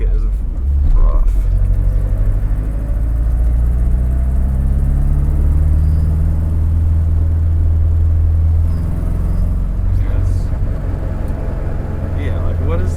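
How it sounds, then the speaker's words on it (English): Inside a K-swapped BMW E30 while driving, a rough, rattling flywheel racket runs under a loud, continuous engine drone and road rumble throughout. "the flywheel, or I'm not even sure what's making all that racket, is rough"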